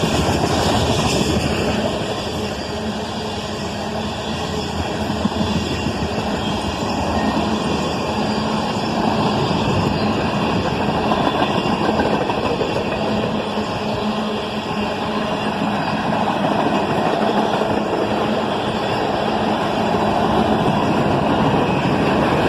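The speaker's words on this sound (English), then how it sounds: "it would turn out it was just a huge cut of tankers on a manifest train" A CSX manifest freight train with a long cut of tank cars rolls steadily past close by, giving a loud, continuous rumble and wheel clatter that holds evenly for the whole stretch.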